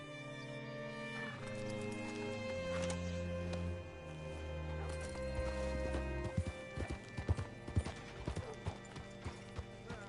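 Horse hooves clip-clopping in Red Dead Redemption 2, starting under sustained musical tones and becoming a clear, irregular run of close hoof strikes over the last few seconds.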